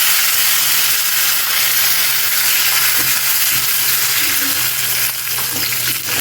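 Curry leaves sizzle in hot tempering oil with pepper and asafoetida just after the stove is turned off, making a loud, steady crackling hiss up close that stays even throughout with no talk.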